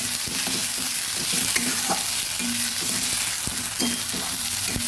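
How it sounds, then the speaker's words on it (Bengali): Kharkol leaf paste frying in a pan while being stirred, a continuous sizzle with regular scraping strokes of a spatula repeating every half second or so, steady and fairly loud, with no voices. "এবার ভালোভাবে নেড়ে নেড়ে ভেজে নেবে আপনারা"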